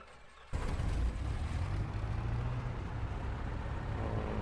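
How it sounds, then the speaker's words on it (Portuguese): A piston aircraft engine in the X-Plane 10 flight simulator catches abruptly after a brief quiet moment, then settles into a steady, loud, low rumbling idle around 1000 RPM that continues without talk. "E vamos startar nossa aeronave."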